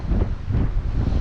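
Strong wind gusts buffet the microphone outdoors beside a boom being extended, a loud, continuous rumbling roar that swells and dips with no voices.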